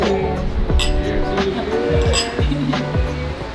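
Glasses clink together in a celebratory toast, several sharp bright chinks spaced through a lively room with people talking underneath.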